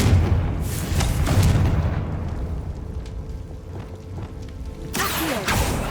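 A Confringo blasting spell explodes in Hogwarts Legacy with deep booms and rumbling blasts, a fresh sharp burst near the end, loud and close.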